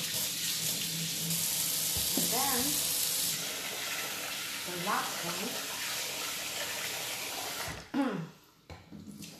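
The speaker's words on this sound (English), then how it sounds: "I'm going to fill the pan, the rice, with water. I'm going to use cold water." Cold water pours from a tap into a pan of rice, a steady close hiss of running water that stops near the end, with a person speaking over it.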